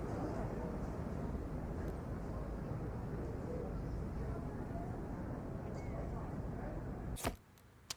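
A busy street ambience from the video game Arma Reforger plays as a steady low murmur of traffic and distant city noise, with a few sharp clicks near the end as it cuts off.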